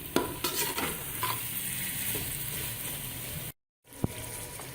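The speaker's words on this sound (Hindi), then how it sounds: "फिर इसको भूनूंगी" Chicken keema with peas and potatoes fries in a pan, a steady close sizzle broken by scraping stirs and a few utensil knocks, with a brief dropout before the sizzle resumes.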